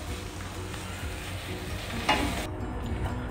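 A spoon mashes and mixes stuffed capsicum filling in a pan, a continuous soft scraping and stirring with a faint sizzle and one brief louder knock partway through.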